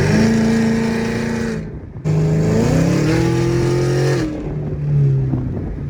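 A Camaro ZL1 with Kooks long tube headers and intake revs hard on a dyno, the engine note climbing and holding in loud sustained pulls, broken by a brief cut before falling back to idle.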